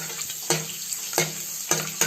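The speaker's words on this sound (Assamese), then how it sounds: "নহৰু কেইটা অলপমান ভাজি ল'ম।" Whole garlic cloves fry in hot oil in a wok with a steady close sizzle, broken by three louder scraping stirs at regular intervals.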